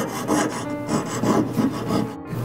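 A file rasps in quick, even back-and-forth strokes against a small gold piece cut for resizing a ring, taking burrs off its ends. The scraping is close and clear, with no speech.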